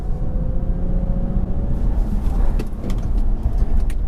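A 2020 Toyota Camry TRD lapping a track with traction control off, its engine and tire roar holding steady and loud throughout, with road rumble and faint higher squeaks or chirps toward the end.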